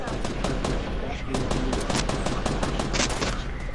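Rapid, dense gunfire from the Fortnite video game sounds as continuous close bursts of shots throughout, with faint voices mixed in.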